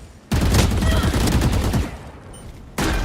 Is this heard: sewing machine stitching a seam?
no